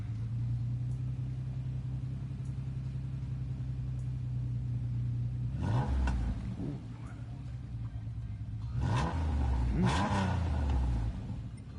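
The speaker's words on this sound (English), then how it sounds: "Let's hear the engine of this thing." A race car engine in Gran Turismo Sport, played in VR, drones steadily at low idle, then rises in two separate bursts of revving, each swelling loud and falling back.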